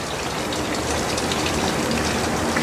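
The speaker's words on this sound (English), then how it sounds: "Pretty water feature made from probably volcanic rock." Continuous rushing, splashing water, close and steady, from a volcanic-rock water feature at the Pumapungo Museum in Cuenca, Ecuador, like a fountain pouring into a pool.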